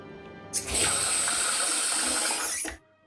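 Loud tap water gushes into a sink in a bathroom during a wet shave, a broad steady rush that starts abruptly and runs for about two seconds before cutting off.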